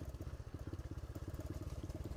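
A Honda Dax mini motorbike slows down, its small engine putting out a steady, rapid pulsing putter close by that eases off slightly, with no one talking.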